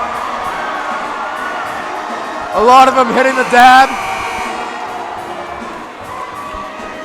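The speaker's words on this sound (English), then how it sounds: "the Sacred Heart Prep crowd is going crazy" A Sacred Heart Prep crowd at a boys basketball game against Menlo breaks into a loud burst of cheering and whooping that peaks for a few seconds, with an announcer talking before and after.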